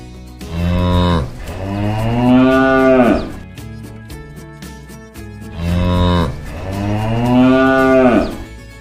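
A cow and calf mooing: two long, loud, drawn-out moos, close by and separated by a short pause, with nothing else competing.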